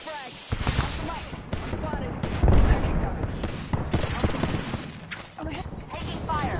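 Gunfire in a shooter video game, dense bursts of shots and rapid automatic fire mixed with impacts and clatter, loud and close, with a voice speaking over it.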